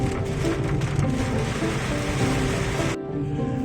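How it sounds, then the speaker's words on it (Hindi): Heavy rain pours in a loud, continuous rush around a car on a drive for about three seconds, then the roar abruptly drops to a muffled, quieter hush. "इधर बारिश बहुत तेज हो रही है।"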